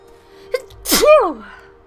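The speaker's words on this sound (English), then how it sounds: "Sorry, I sneezed." One close, loud human sneeze, a short sharp intake followed by a forceful burst, over faint background game tones.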